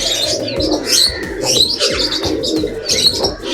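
Katta Mooku homer pigeons of a good breeding lineage coo steadily and up close, soft throaty calls overlapping with light chirps and rustling from the loft.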